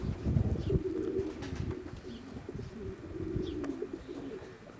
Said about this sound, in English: so we just hold pigeons there for people